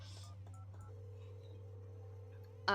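Telephone keypad tones dial a number in the video game The Red Strings Club, a quick run of beeps followed by a steady tone, clear and close with no talk over it.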